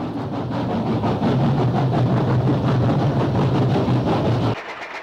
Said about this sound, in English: an impressive performance by 3818 on the up Central West Express